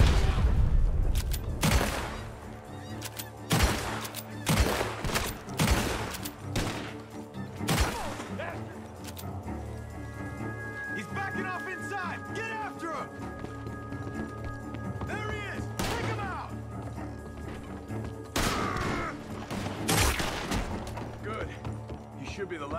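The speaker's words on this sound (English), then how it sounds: "The gunshots are coming from that barn." Gunfire in Red Dead Redemption 2 rings out from a barn in repeated sharp bursts and scattered shots, with running and hoofbeats among them, under music and game sound.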